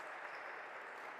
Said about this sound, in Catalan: Un aplaudiment per ells perquè ho han fet molt bé